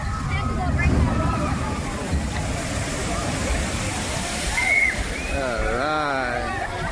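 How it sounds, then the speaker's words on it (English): Water ride at Universal Studios Orlando, with boats sloshing and water churning loudly throughout, a roaring rush of splashing and spray, while people talk and shout over the noise nearby. "We're going to get a splash down eventually."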